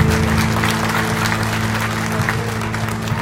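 A church congregation applauds at a Bible Day celebration in Santo André, dense continuous clapping from a large crowd over a steady low musical drone, loud and sustained throughout.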